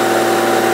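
A 1994 Honda Goldwing 1500SE motorcycle with 92,000 miles idles steadily, its engine a smooth, even hum with a constant tone, close and alone for under a second.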